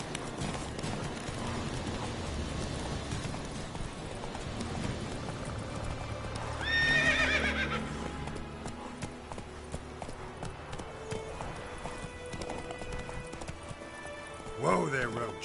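Roach, a horse in a video game, gallops with steady clip-clop hoofbeats, then lets out a clear whinny midway and another brief neigh near the end. A voice talks over the hooves throughout.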